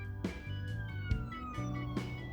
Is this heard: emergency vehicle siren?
yes